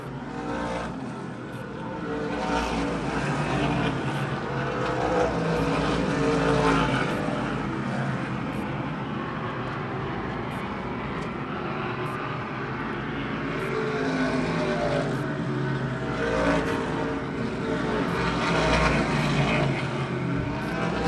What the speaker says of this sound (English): Those first two cars come down the front straightaway. Sounds like they're just coasting.